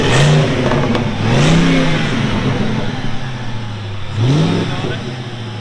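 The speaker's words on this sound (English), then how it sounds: "You can hear the supercharged spooling up." A supercharged 5.4L V8 in a 2007 Saleen S331 rises and falls through repeated revs, loud and close, the blower whine climbing with each blip over a steady idle.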